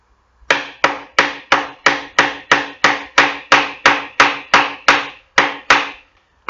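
Loud, rhythmic hammer blows drive nails into a wooden chess board, about fifteen strikes in a steady, even cadence with no talking.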